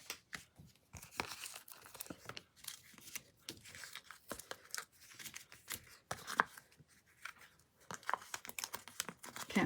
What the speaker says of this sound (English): you can just tear these